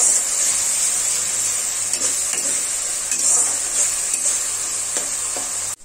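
Onion paste frying in oil on a low-medium gas flame for a traditional Bengali chital fish kalia, a steady close hiss and sizzle with faint stirring scrapes throughout.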